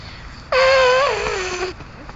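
A voice imitates an elephant with a single loud, wavering trumpet-like wail lasting just over a second, close to the microphone, then fading to quiet.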